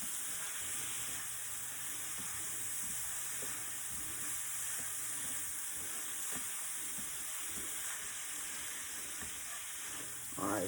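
Shrimp and noodles frying in a pan, a steady moderate sizzle and hiss with occasional soft clinks of stirring, no voices.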